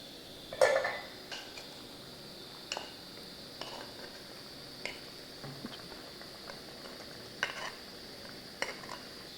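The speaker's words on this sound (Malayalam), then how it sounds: "ഇനി നമുക്ക് വേവിച്ച് വെച്ചിരിക്കുന്ന കായ ചേർത്ത് കൊടുക്കാം" Cooked plantain goes into a simmering kalan curry in a pot and gets stirred, a faint sizzling bed broken by spaced scrapes and light clinks of a utensil against the vessel.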